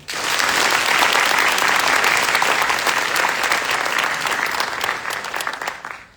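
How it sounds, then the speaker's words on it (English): Crowd applause at a drill sergeant class graduation at Fort Jackson, South Carolina, loud sustained clapping from a large audience that tapers off near the end. "Please join me in a round of applause for the Commandant's list"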